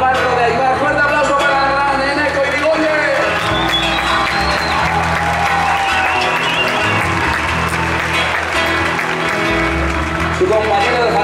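Sustained applause from a festival audience in Berrobi, Navarre, for a trumpet-playing musician, a dense, steady wash of clapping with some cheering mixed in throughout.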